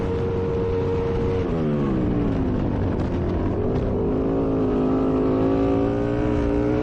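Flat track racing motorcycles, twin-cylinder machines, roaring loudly on a dirt track in California, engines revving and shifting pitch as they sweep out of the final corner and down the back straightaway, a steady, dense drone throughout.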